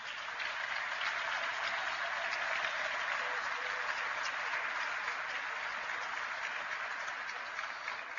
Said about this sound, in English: Can we please give them all a big round of applause for tonight?